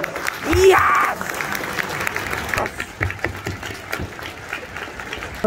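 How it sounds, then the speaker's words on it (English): Applause from a school audience for an orchestra and chorus, with a loud burst of clapping and a cheer early on that thins into scattered, fading claps under crowd noise. "Another round of applause."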